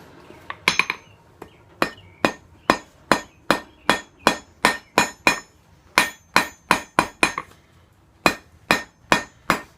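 A blacksmith hammers hot steel on an anvil while forging the tines of a campfire fork, with a steady run of sharp ringing hammer blows in a regular rhythm and short pauses between groups.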